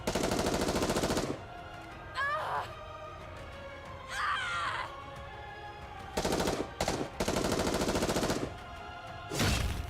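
Loud bursts of rapid automatic gunfire from the Goddess of Victory: Nikke video game come in several blasts with short gaps between them, while a voice speaks over the quieter stretches.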